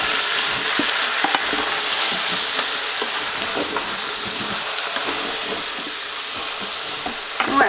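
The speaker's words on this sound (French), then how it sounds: "je fais revenir un petit peu les légumes et ensuite on va ajouter les liquides" Vegetables and two cloves of frozen garlic sauté in a pan for a chicken stew, giving a steady close sizzle with occasional clicks and scrapes of stirring. No one speaks.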